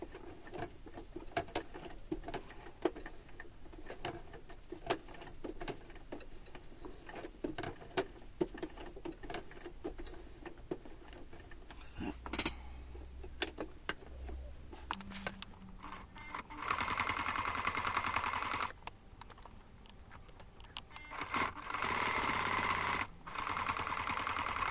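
A sewing machine stitches a handmade fabric basket in a burst of rapid, steady mechanical patter that starts and stops, with louder, fuller runs of stitching in the second half.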